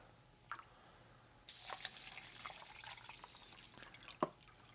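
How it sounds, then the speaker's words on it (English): Water trickles and drips into an MRE drink mix cup, faint and close, with a splashy pour in the middle and a sharper drip near the end. "Let's go and put some water in here until we get her about to the right mix."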